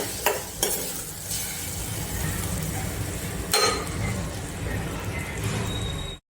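Moong dal and bottle gourd curry stirred in a pan, a steady sizzling scrape with a few sharp clinks of the spoon against the metal, close and continuous until it cuts off near the end.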